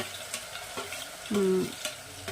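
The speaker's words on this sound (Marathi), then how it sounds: "आता आपण मसाला टाकू आणि याला छान असं परतून घेऊ" Ground masala paste for a Maharashtrian mutton curry being sautéed over a low flame, giving a soft steady sizzle broken by a few spoon scrapes and one short louder scraping stir, heard up close with no voice.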